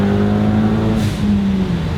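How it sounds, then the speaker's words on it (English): Wind rushing through the open windows of a moving Ford Focus ST running on E30 ethanol blend, a steady broadband rush under a droning engine hum and tone, loud and continuous throughout. "there's just a lot of wind noise"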